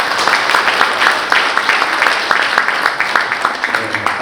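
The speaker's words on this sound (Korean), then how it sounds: "국제로타리 재단 이사님을 큰 박수로 맞이해 주시기 바랍니다." An audience at a Rotary district training conference applauds to welcome a speaker, a dense, steady wash of many hands clapping at once.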